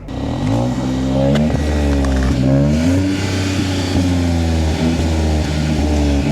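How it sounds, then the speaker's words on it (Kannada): A Hyundai Venue N-Line turbo petrol engine revs repeatedly, pitch rising and falling in several loud sweeps over a steady idle, heard up close with no voices. "ರೇವ್ ಮಾಡೋಣ ಕಾರ್ನ."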